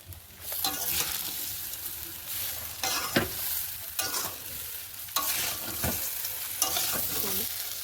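Chalta (elephant apple) pickle cooked down with sugar in a pan over low gas, stirred in repeated scraping strokes every second or so, with a soft sizzle running continuously beneath; no one speaks.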